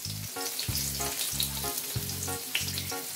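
Chopped onions and cashews fry in hot oil in a pan, giving a steady, crackling sizzle close by, with a regular pulsing hum running under it and no voices.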